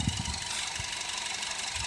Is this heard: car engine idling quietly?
yes